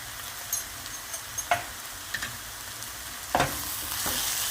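Chili flakes and sweet paprika fry in oil in a pan during leek pide preparation. A soft, even sizzle runs underneath while a spoon stirs, leaving a handful of distinct scraping clicks and knocks.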